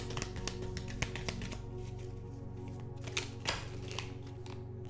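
Tarot cards being shuffled by hand, a quiet scatter of quick papery clicks and taps in uneven bursts, with no talk.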